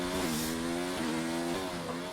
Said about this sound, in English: Oh God, listen to that gearbox.